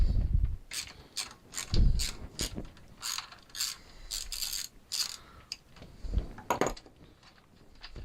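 A socket wrench ratchets on a Stihl TS350 disc saw during a restoration, with bursts of quick clicking and metallic knocks, close and fairly quiet, broken by short pauses.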